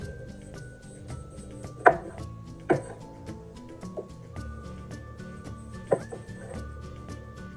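A knife chops a scotch bonnet pepper on a cutting board, giving a few sharp, separate knocks over a low, steady hum of background noise.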